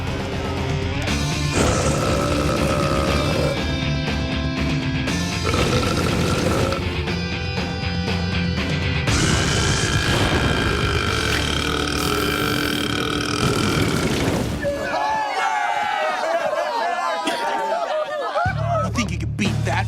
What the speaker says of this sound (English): Who's up for a little belching contest?